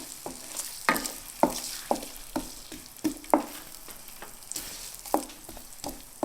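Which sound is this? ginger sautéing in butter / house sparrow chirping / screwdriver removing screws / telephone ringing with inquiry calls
ginger sautéing in butter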